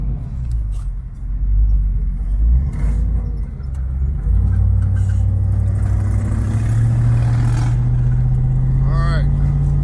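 A Foxbody Mustang with an AOD automatic transmission cruises on a freeway, its engine droning low and steady with a rising hum and road rumble, while someone talks over it.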